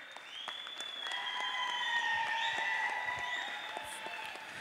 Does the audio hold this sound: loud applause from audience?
yes